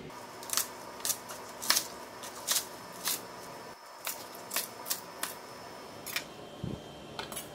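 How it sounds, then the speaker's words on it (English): A knife slicing through a leek, a vegetable being cut for homemade chicken broth: a steady run of crisp, close cutting strokes with faint kitchen background and no talk. "So this leek also, I will cut it."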